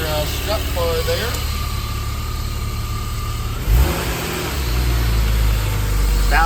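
Alpina B6 2.8/2 idles after a cold start, a steady, close engine hum with a brief blip of revs partway through and a slightly fuller idle afterwards.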